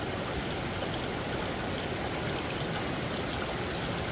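Water rushing through a flooded drainage ditch after heavy rain, a steady, loud, broadband roar of flowing water that continues unbroken throughout with no voices.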